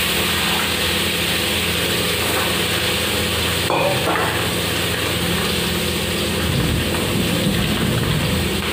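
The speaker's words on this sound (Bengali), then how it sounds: "তেলটা গরম হয়ে গিয়েছে, আমি মাছটা দিয়ে দিয়েছি। আমি এটা ভালো করে ভেজে নেব," Pieces of bata fish fry in hot oil, giving a steady, loud, dense sizzle and crackle that carries through the whole stretch with a brief disturbance partway through.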